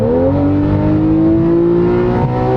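Porsche 991.1 Carrera S with the X51 Power Pack, its engine given a quick throttle blip: a loud, close, continuous engine note that rises smoothly in pitch and holds steady, with no talking.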